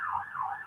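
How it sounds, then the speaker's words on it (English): An ambulance siren wails outside, its tone sweeping steadily up and down in a continuous, fairly loud cycle with no voices over it. "excuse the noise of the ambulance"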